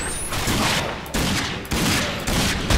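Video game gunfire from the shooter Rage: a few sharp shots spaced roughly half a second apart, moderately loud over a steady ambient bed, with no voices.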